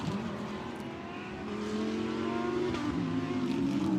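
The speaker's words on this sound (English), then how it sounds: "the cars rumble down the pit lane" GT World Challenge Europe race cars at Brands Hatch rumble down the pit lane, a steady loud engine drone with layered harmonic tones and revving from several cars, no talk.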